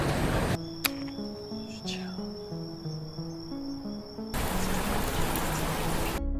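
Rain falling outdoors where food is being cooked, a steady broadband hiss at the start and end, briefly giving way to a quieter stretch of tonal music in the middle.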